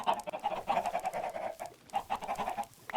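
Chickens clucking on a farm in the video game Minecraft, a busy run of close, moderately loud clucks and squawks repeating almost continuously, with no talk.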